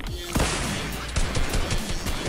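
Rapid gunfire in the Fortnite video game, a dense burst of shots and impacts running continuously through the clip with no talk over it.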